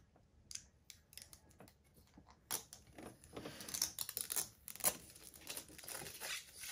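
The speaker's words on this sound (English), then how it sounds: "So, just going to remove that. And so you just want to peel that all the way off." Thin plastic protective film peeled off a phone case in close, quiet crinkling and tearing bursts, faint at first and growing busier with irregular crackles.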